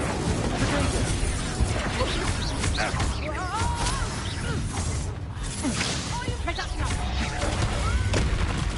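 An Incendio fire spell cast in Hogwarts Legacy amid busy combat: whooshing magical bursts, crackles and impacts layered over chaotic battle noise, with voices in the mix.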